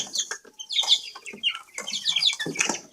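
Free-range native chickens clucking close by while they peck at scattered feed, with busy overlapping clucks and short squawks in quick bursts.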